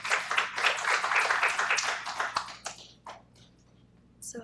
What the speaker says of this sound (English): Please join me in giving them a big round of applause as they begin their presentation.